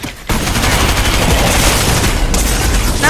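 A Fortnite turret fires in a dense, continuous stream, loud and close, with barely a break across the whole stretch.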